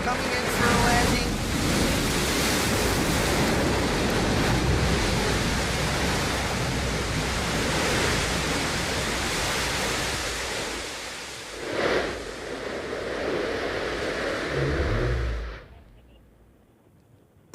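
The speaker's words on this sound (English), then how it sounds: "There it is, engine ignition, engine relight coming in for a landing." A New Shepard booster's BE-3 rocket engine relights during landing: a roar like steady hissing surf, rising and falling, with a brief surge near the end before it cuts abruptly to near silence.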